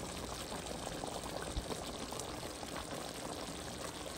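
Chicken dakatine simmering gently in a pot, a steady soft bubbling and hiss that stays even throughout with no voices.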